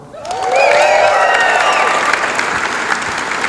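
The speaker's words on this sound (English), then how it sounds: "You can cheer a lot louder than that." A business excellence awards gala audience breaks into loud applause and cheering, with shouts and whoops rising over dense clapping that swells quickly and stays strong.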